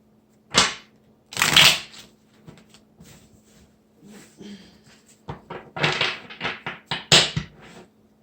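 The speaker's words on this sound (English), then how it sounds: "Shuffle these ones." Tarot cards are shuffled up close in irregular bursts of riffling and slapping, with quiet pauses between handfuls.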